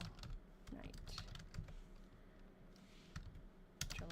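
Typing on a computer keyboard: close, irregular clicking keystrokes at a steady pace against a low background hum.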